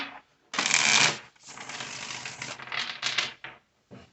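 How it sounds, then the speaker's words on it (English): Close, crisp riffle of tarot cards being shuffled in several quick bursts with short pauses between, ending in a few light taps. "All right, this will be our last shuffle."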